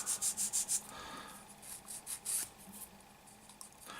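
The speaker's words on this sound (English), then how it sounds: "just get a little bit of a sander on that edge" Rhythmic rubbing strokes from sanding the edge of a white Camaro body panel, quick close scrapes at first, then slower intermittent passes, fairly quiet and alone.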